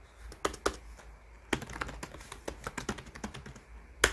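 Computer keyboard keys pressed while working in the Hangul 2020 word processor, a series of separate clicky taps with a few sharper, louder strikes, close up and alone.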